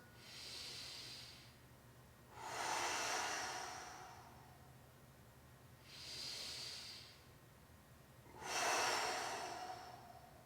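Four deep yoga breaths alternate inhale and exhale, each a broad airy rush lasting about two seconds, close and fairly loud over a faint steady hum, with no talking.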